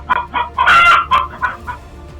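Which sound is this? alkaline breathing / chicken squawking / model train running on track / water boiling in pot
chicken squawking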